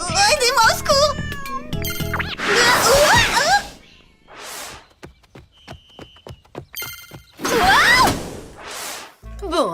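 Several cartoon cats meow in bursts from cages, a few loud overlapping cries separated by quieter gaps with small clicks and jingles, while voices talk between them.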